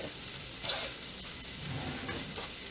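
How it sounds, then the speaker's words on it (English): Garlic and onion sizzle steadily on a hot griddle, a continuous bright frying hiss with occasional soft crackles, close and fairly quiet, no talking. "let's just do a little garlic"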